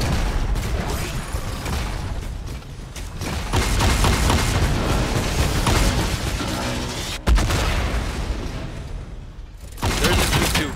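Fortnite firefight with dense, sustained bursts of gunfire and booming impacts, loud and chaotic with a brief sharp crack near the end.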